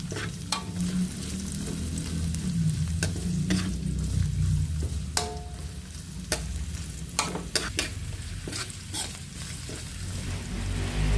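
Carrots frying in oil in a pan while bihon with corned beef is being cooked, giving a steady sizzle throughout with occasional sharp clicks and scrapes of stirring, close and moderately loud, with no speech.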